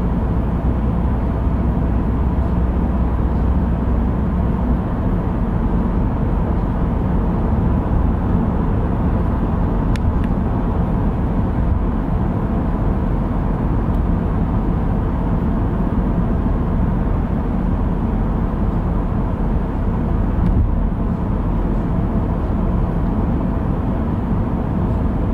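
A 2019 Chevrolet Cruze on a test drive, with a steady wash of road and engine noise filling the cabin, even and continuous with no talk.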